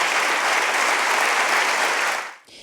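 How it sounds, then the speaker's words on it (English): A room full of people at the governor's State of the State address bursts into loud, dense applause and cheering, a steady roar of clapping that holds for a couple of seconds before cutting off abruptly. "one side of the room stood up to cheer for the governor"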